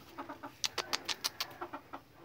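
Hens cluck in a quick run of short, sharp calls, close by and fairly quiet, with no talking.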